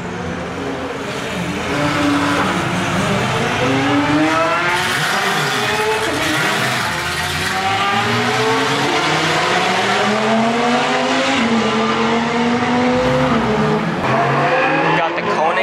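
Koenigsegg Regera hypercar at speed on a race track during a hypercar invitational event, its engine note rising and falling steadily and loudly throughout with no break, with the tones of other cars also racing in the mix.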